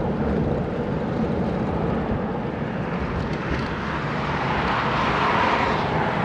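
A Jeep with a sun shade top driving on a highway, heard as a loud, steady roar of wind buffeting and engine and road noise that barely changes throughout.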